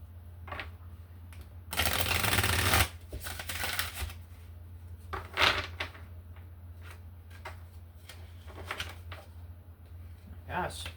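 Spirit animal oracle cards being handled and shuffled by hand, a dense riffling burst followed by scattered soft card slides and taps, close and fairly quiet.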